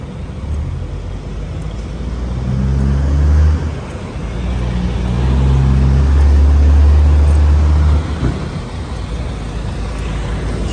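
A large car transporter truck rolls past close by, its deep engine rumble swelling, easing briefly, then building to a heavy drone before fading away.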